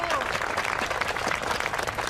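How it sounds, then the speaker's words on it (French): A crowd applauds at a bank branch opening, with dense, sustained clapping throughout and voices talking over it. "Je vous propose de vous applaudir."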